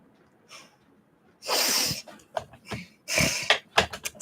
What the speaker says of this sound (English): I'm sniffing because I have a lot of animal hairs and it's up my nose.